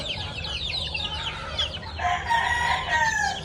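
Backyard free-range chicks and chickens cluck and peep in a busy, continuous chorus nearby, with a brief crow-like call mixed in and no talking.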